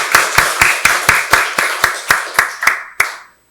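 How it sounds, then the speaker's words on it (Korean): A church congregation claps in unison at a Sunday worship service: about a dozen loud, evenly spaced claps in a steady rhythm, the last one ringing out briefly before silence. "박수로 하나님께 영광 돌리겠습니다"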